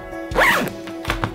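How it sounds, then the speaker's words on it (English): A clothing zipper is pulled in one quick, close rasping stroke, followed by two short zipping bursts, heard alone without talk. "How about a zipper? Let's give it a shot."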